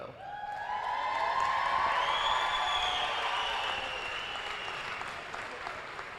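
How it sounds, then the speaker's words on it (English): A large audience at a high school graduation ceremony applauds steadily, a dense wash of clapping that swells and holds, with a few faint cheers mixed in. "Please join me in another round of applause"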